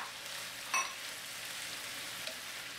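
Chopped tomato drops into a broccoli stir-fry, a brief soft hit over a steady, even frying sizzle that continues throughout.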